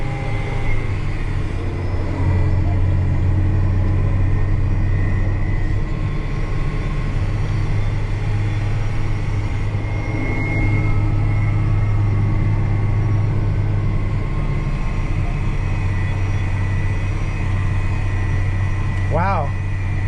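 Case 340 Magnum tractor pulling along at about 6 mph in gear, a steady low engine drone with constant harmonic hum filling the cab, while people talk over it throughout.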